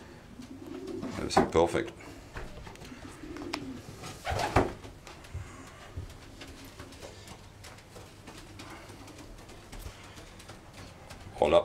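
Racing pigeons in a breeding loft coo in soft, throaty bursts nearby while someone talks over them.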